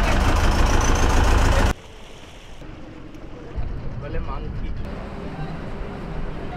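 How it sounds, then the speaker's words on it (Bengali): River launch engine on a Sundarbans trip to Gosaba runs with a steady low rumble, loud and broad at first, then continuing more faintly with water noise as someone talks over it. "পাশ দিয়ে দেখুন কীভাবে আমাদের একটা লঞ্চ কিন্তু চলে যাচ্ছে"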